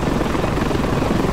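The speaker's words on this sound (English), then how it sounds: "I hear a helicopter. Is it an enemy helicopter?" A helicopter in the Ravenfield shooter game thrums steadily and loudly close by, a dense rotor wash filling the short moment without any pauses.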